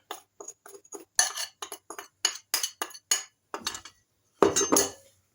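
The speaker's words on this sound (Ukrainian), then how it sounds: "І злегенька лопаткою замішую наше тісто" Cake dough for a currant jam roll gently folded with a spatula in a bowl, producing a run of light, close clinks and taps at an uneven pace, a short pause, then a final longer scraping stroke.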